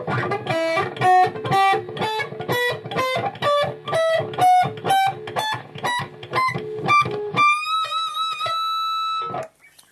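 Distorted electric guitar climbs the E natural minor scale on one string, note by note in a steady rhythm, ending on a sustained chord that rings out.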